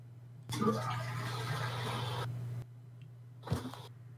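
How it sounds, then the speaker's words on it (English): Toilet flushing nearby, a rushing swirl of water lasting about two seconds over a steady low hum, ending abruptly, followed by a brief clunk or splash. "Was that you like flushing a toilet or something?"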